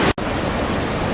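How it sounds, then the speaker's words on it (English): The Iguazú waterfalls roar on the Argentine side as a dense, broad, steady rush of water, loud and constant apart from a brief dropout at the start. "I am at the downriver most end of the Iguazú waterfalls on the Argentine side."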